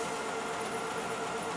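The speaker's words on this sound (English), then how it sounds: "That noise in the background is my printer is just all of a sudden decided to start cleaning" An inkjet printer running its self-cleaning cycle gives a steady, even mechanical whir with a faint whine, heard alone at low level for a moment.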